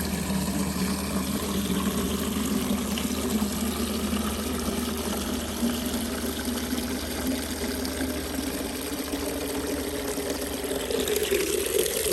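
Rainwater pours steadily into a 2.5 gallon container in a garden, a continuous close splashing rush of liquid with no talking.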